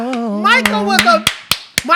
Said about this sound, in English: Michael, you dead, but I hope you hear this clap